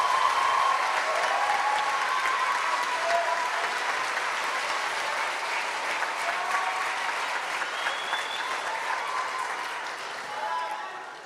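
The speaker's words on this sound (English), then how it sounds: "You deserve a round of applause." Sustained applause from a large audience at an honors convocation, steady dense clapping that holds for several seconds and gradually thins toward the end.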